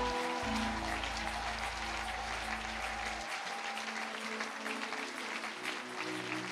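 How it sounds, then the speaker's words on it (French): A church congregation applauds the Lord during worship, with sustained, fairly distant crowd clapping like steady rain, while a low organ or keyboard tone holds under it for the first few seconds. "Acclamons très fort le Seigneur"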